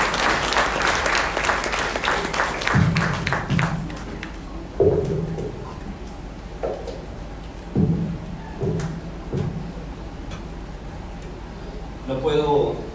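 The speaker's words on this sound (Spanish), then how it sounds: "Pido un fuerte aplauso para recibir al maestro" Applause from a conference audience in a Senate chamber welcoming a speaker: a short burst of clapping at the start that fades, then someone talks, with a few knocks and thumps under his voice.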